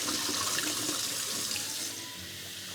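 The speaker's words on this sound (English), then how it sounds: "I hope you're all enjoying the water sound effects." Water runs from a kitchen tap into a freshly descaled kettle, a steady hissing stream close by that shifts slightly in tone as the kettle fills, with no talk.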